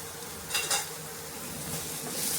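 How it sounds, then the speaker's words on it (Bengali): Ridge gourd pieces fry with onion and garlic in hot oil, giving a constant close sizzle broken by a couple of quick stirring scrapes near the start. "পেঁয়াজ রসুনের সাথে ভালো করে ঝিঙেগুলো একটু ভেজে নেব"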